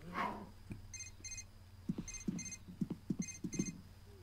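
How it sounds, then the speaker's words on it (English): An alarm clock in The Sims 3 rings in short repeated bursts of electronic beeping, fairly quiet, mixed with soft tapping and clicking game sounds. "Oh, that's the alarm clock. It's an alarm clock."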